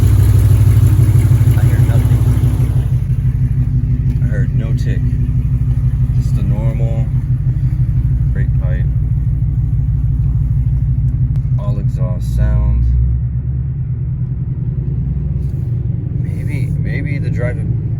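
A 2015-2021 Ford Mustang GT V8 rumbles steadily while driving, a loud low drone heard from inside the car that eases slightly near the end, with people talking over it throughout.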